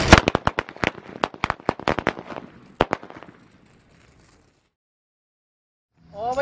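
A rapid string of sharp Diwali firecracker pops crackles loudly for a few seconds, then stops, leaving near silence before a voice begins.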